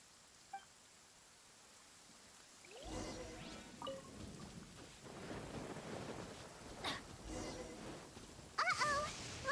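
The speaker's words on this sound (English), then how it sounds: "Uh-oh! Lightning storm!" Rain and rolling thunder from a lightning storm in the video game Genshin Impact, beginning after a quiet opening and building into steady rainfall with thunder rumbles and sharp cracks, plus a brief electronic chime near the end.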